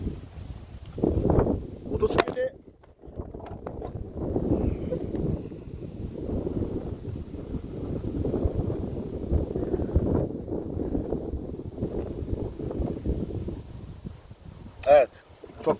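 Wind buffets the microphone in low, rumbling gusts that rise and fall throughout, with a couple of brief knocks and rustles, beside a Mondial X-treme Maxx 200 motorcycle.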